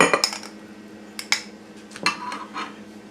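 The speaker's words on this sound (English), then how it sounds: "I'm going to take a little out and put it in a serving bowl." Spoon and dish clinks as strawberry dessert garnished with fresh strawberries is scooped into a serving bowl: several sharp, close taps and scrapes against the dish, spaced irregularly over a quiet background.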